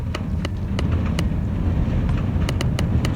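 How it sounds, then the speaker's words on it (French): Steady low rolling rumble with periodic sharp clicks and clacks of a minecart trundling along rails in Minecraft. "ils ont remis le bruit des minecarts"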